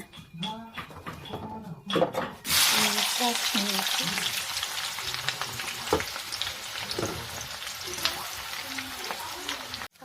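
Onions, blackened with sugar, fry loudly in a pan, a steady close hiss and crackle that bursts in and continues with occasional stirring scrapes, following a few seconds of talking.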